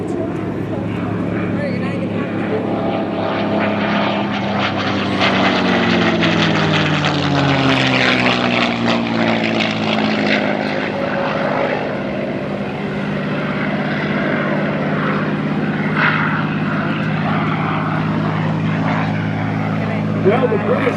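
P-51 Mustang propeller fighter flying aerobatics at an airshow, a loud continuous piston-engine drone with rising and falling pitch as it passes, under a narrator's voice throughout.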